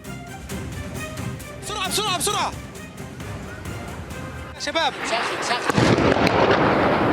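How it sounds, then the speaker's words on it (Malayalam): Israeli shelling strikes the Syrian army general staff headquarters building in Damascus. A loud, deep blast bursts out near the end beneath excited shouting voices, with rumbling before it. "قصف جديد مبنى هيئة الأركان خالص"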